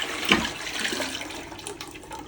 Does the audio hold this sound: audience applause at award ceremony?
no